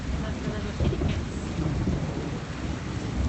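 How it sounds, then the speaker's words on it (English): A thunderstorm breaks a drought, with steady rain pouring down and thunder rumbling low beneath the continuous hiss of the downpour. "Also excited about the rain?"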